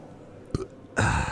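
A single loud burp from a commentator during a Super Mario Kart championship match broadcast, a short guttural eructation following a brief earlier sound, with no talk over it.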